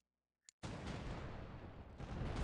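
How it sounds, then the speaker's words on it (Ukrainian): A sharp crack followed by a loud, sustained roaring blast as an oil barrel explodes and catches fire in the video game Pirates: Caribbean Hunt, filling the whole clip. "Ага, вибухнула, загорілося справа."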